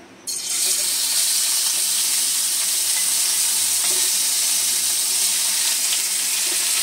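Marinated prawns with their lime juice go into hot oil in a pan for a cocktail prawn dish, setting off a sudden loud sizzle that holds as a steady, bright hiss.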